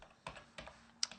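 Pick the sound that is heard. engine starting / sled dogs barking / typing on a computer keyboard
typing on a computer keyboard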